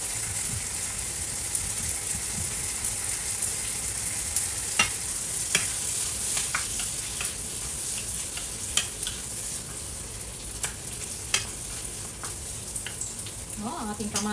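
Meat frying in a pan at home, a continuous close sizzle broken by scattered sharp spatters and scraping stirs, with a clatter near the end.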